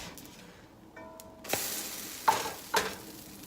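Pancake batter cooking in a frying pan, giving a soft, steady sizzle with a few sharp scraping or tapping sounds from a utensil near the end. No one speaks.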